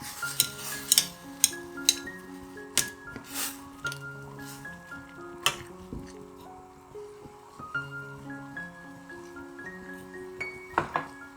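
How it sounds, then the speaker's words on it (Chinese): A utensil stirs a pot of kimchi dumpling rice cake soup with rice cakes, seafood tofu and bean buns, giving repeated clinks and scrapes against the pot in an uneven rhythm, close and moderately loud, with no talking. "稍微搅拌"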